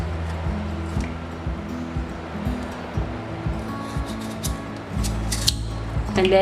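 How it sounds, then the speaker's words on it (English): Knife cutting potatoes into halves on a board, a series of close soft cuts and thuds in an uneven rhythm, with a low hum running underneath. "we're just going to cut them into half"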